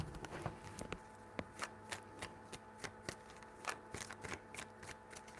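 Tarot cards are shuffled by hand in a quiet room, a run of crisp riffling snaps and soft slaps in an uneven rhythm, close and fairly faint.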